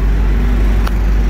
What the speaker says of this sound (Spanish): Pues acá el carro te mandan otro, casi me atropella.